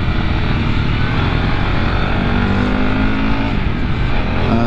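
A Harley-Davidson Pan America Special motorcycle pulls hard in first gear while leaned over, its engine a loud, steady, close roar with rising revs sustained throughout, no talking.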